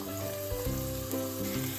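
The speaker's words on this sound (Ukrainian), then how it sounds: "Будемо всмажувати цибулю до напівпрозорого кольору." Oil sizzling steadily as chopped onions fry in a preheated pan, a continuous crackling hiss with occasional stirring.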